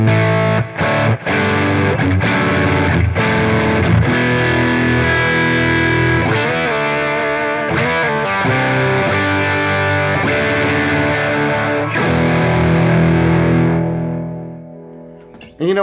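Electric guitar through a Whitfill Superplex amp turned down to barely above talking level plays crunchy, overdriven chords that ring continuously for about fourteen seconds, then fade into near silence.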